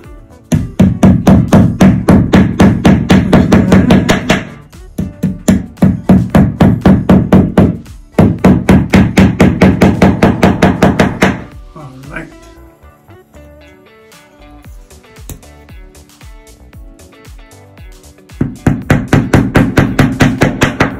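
Wall anchors hammered in for glass shower shelves: rapid bursts of loud, sharp, close blows in long runs, a quieter gap of lighter handling sounds in the middle, then another run of hammering.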